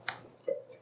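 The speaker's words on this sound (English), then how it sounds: "So let's stir that up." A wooden spoon stirs a thick bolognese pasta sauce made with milk in a pot, giving two brief wet squelching sounds close up.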